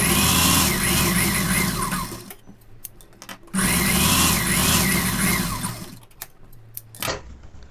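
A sewing machine stitches a lined Pa-neck blouse in two runs of steady, close whirring, separated by a brief pause with small handling clicks.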